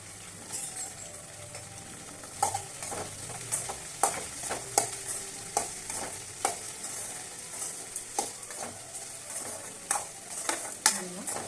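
Okra sizzles steadily in a hot pan while a utensil stirs it with repeated scraping clicks in a loose rhythm, close and fairly loud, no voices.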